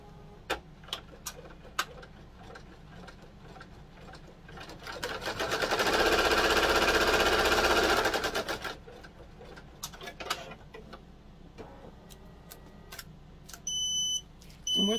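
An embroidery machine working on an in-the-hoop notebook cover gives sparse ticks and clicks, then a loud two-second buzzing whir of rapid stitching, then more scattered mechanical clicks and a short electronic beep near the end.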